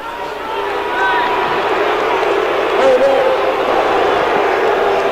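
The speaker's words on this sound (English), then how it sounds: "the crowd boos. They're not happy with the call." A football stadium crowd at a 1985 USFL game between the Gamblers and Generals boos a referee's call, a loud, sustained roar of many voices that holds steady for the whole stretch.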